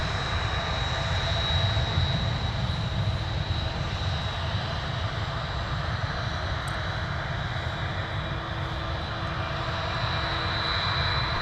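A Delta jet rolls for takeoff on runway 17 at Minneapolis–Saint Paul airport, its engines giving a steady, broad roar with a faint high whine, distant and constant throughout, no speech.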